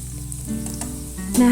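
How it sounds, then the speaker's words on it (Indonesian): Shallots and garlic sauté in oil with a steady, close sizzle that swells at the end as the pan is stirred. "Ini akan kita tumis bawang-bawangnya sampai harum ya."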